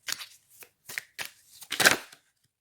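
Cards handled during a card reading: a series of short crisp flicks and riffles, close and fairly quiet, with a louder shuffle burst near the end, no talk.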